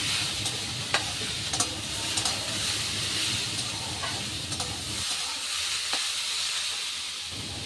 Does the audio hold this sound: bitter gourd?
yes